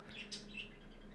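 Pet budgies chirp indoors, a few faint, quick high tweets over a quiet room hum.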